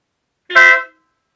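A Denali Sound Bomb horn on a BMW R1200GSA Rallye motorcycle gives one short, loud, bright blast of about half a second, close by, with no other sound around it.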